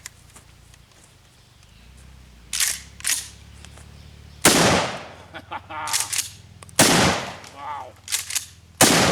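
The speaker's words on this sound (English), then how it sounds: "The double-aught buck out of the Mossberg." A Mossberg shotgun fires double-aught buckshot in loud, sharp blasts, about five shots spaced irregularly across the stretch outdoors, each with a short echoing tail; a brief exclamation is heard between shots.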